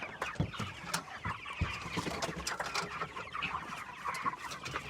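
Young broiler chickens on pasture cluck and peep continuously, a busy cluster of close, overlapping bird calls.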